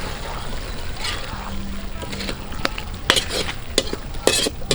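Eggplant added to pork binagoongan being stirred and fried in a pan outdoors, with a steady sizzle and repeated scraping stir strokes and clatters, close and fairly loud throughout.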